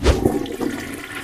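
A toilet flushes with a loud rush of water that surges and then drains away, close by and heard alone over its short run.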